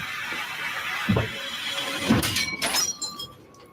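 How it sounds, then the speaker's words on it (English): A wardrobe mirror bursts and shatters, with a heavy crack followed by a sharp burst of breaking glass and scattering shards. The shatter is loud and close, and no one speaks. "The mirror on the wardrobe burst outward, sending sharp shards of glass flying towards Alex, barely missing him."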